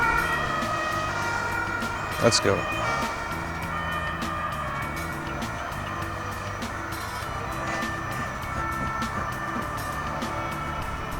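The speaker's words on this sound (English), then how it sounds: "A lot of ambulances here." Ambulance sirens wail throughout, steady and fairly distant, over traffic hum, with a brief short remark spoken partway through.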